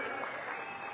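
A crowd at a political rally claps, dense and sustained, filling the whole brief moment.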